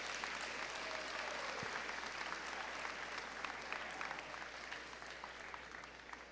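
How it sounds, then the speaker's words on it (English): An audience at a high school honors awards assembly applauds students, steady dense clapping filling the hall and slowly tapering. "Let's give these students a round of applause"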